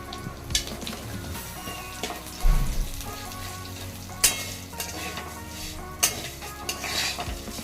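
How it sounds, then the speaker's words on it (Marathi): Dry vermicelli roasting in ghee in a pan, with a spoon scraping and stirring through it, giving soft sizzling and several sharper clinks against the pan, close and without voices. "शेवया छान भाजलेल्या आहेत"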